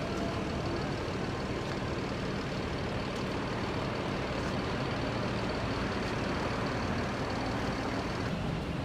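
Epa Star intercity bus from Palembang idling with a steady, loud engine rumble and broad road-noise hiss throughout, no talk.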